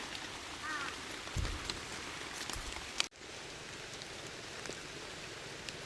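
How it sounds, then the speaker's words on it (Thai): Steady rain falls on a mushroom-gathering outing, a soft continuous hiss with scattered drops and a brief sharp knock midway. "ฝนตกจริงๆแหละ"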